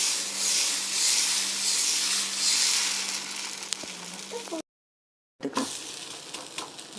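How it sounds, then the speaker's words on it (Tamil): Dosa batter hits a hot pan for kal dosa and sizzles in a continuous hiss, then cuts out briefly and resumes with scraping and clinks. "இப்போ தோசை ஊற்றிக்கலாம்"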